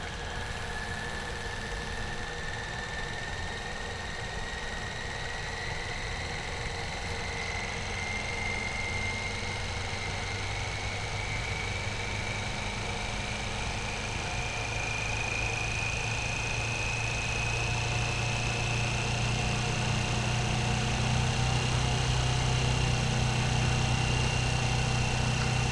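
Centrifuge ramping up to 3,800 RPM, a steady mechanical whir with a whine that slowly rises in pitch while a low hum grows louder over time, continuous and close with no voices.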